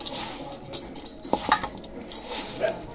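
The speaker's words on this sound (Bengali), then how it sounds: "সুন্দর করে হাতে একটু এরকম ভালোভাবে মেখে নিতে হবে" Hands knead and squeeze cooked dal with mustard oil in a bowl, giving soft, wet squelching and faint scraping sounds up close, irregular and quiet with no talking.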